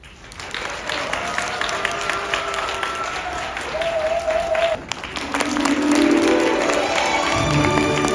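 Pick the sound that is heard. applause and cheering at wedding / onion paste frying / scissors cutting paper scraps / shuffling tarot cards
applause and cheering at wedding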